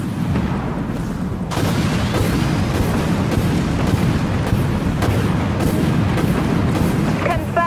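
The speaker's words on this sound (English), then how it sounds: "Fire missiles." Missile launches in the Dreadnought game come as loud booming blasts over a continuous heavy rumble, with a sharp onset partway through and dense impacts after.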